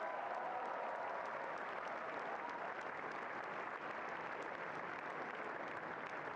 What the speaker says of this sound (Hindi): ये तालियां आपके जोश और गर्व का प्रतीक है